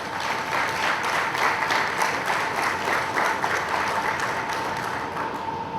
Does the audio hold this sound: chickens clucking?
no